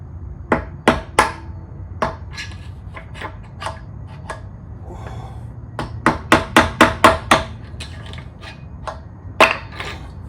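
Sharp metallic hammer strikes driving out a wheel bearing on a Honda NC700X motorcycle, scattered single blows at first, then a quick even run of six or seven hits, close and clear in a quiet workshop.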